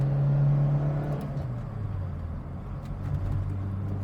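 A 1994 Bohse Safari (Lada) climbing uphill in second gear, its droning engine tone dipping in pitch early on, then holding a steady, moderately quiet hum from inside the car.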